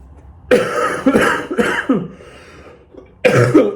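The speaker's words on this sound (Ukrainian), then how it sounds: "уже кашель почався" Several close, loud coughs in quick succession, a short pause, then one more harsh cough near the end.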